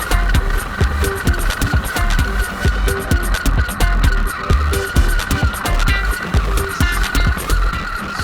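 Large 4x4 rock crawler RC pickup truck with big tires, driving with a camera mounted on it: a continuous loud motor whine with rough bumping and scrabbling, steady throughout, no talking.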